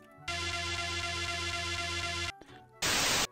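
A sustained audio sample time-stretched in Cubase plays as a steady tonal drone for about two seconds, stops, then gives way to a short burst of bright hiss.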